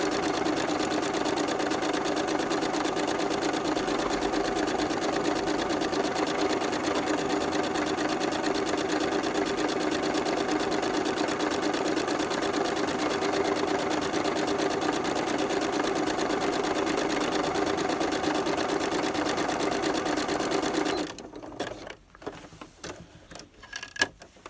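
A domestic sewing machine running a zigzag overlock-imitation stitch hums in a steady, continuous mechanical drone for about twenty seconds, then stops, leaving faint handling clicks.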